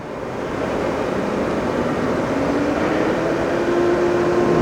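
A Sharp vertical milling machine, model OMV, runs its spindle at a slow 100 RPM, giving a steady, continuous mechanical hum with a faint whine that holds level throughout, with no talk.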